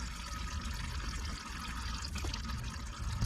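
Old power steering fluid drains from the steering lines of a C-10 pickup as a continuous, close, low trickling flow with no talking over it.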